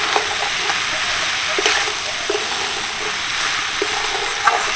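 Sabudana stirred with fried peanuts in a pan, a constant gentle frying hiss under soft, intermittent stirring and scraping taps, close and fairly even.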